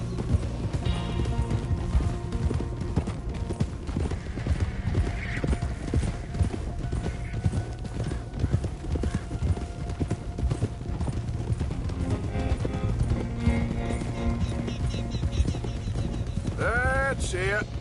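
Horse hooves trotting in Red Dead Redemption 2, a steady, even clatter of hoof beats with creaking tack under game dialogue and music, a neigh near the end.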